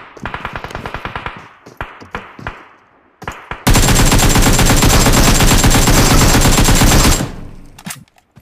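Automatic gunfire in PUBG Mobile, played on an iPad Mini 5: first short rapid bursts and single shots, then a sustained, loud, fast stream of machine-gun fire lasting several seconds before it stops abruptly.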